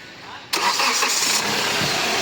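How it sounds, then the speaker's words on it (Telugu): A 2016 Hyundai Creta 1.4 engine starts close by after a quiet moment. It cranks briefly, catches with a sudden loud burst, then settles into a steady idle. "ఒకసారి వెహికల్ అనేది స్టార్ట్ చేస్తాను"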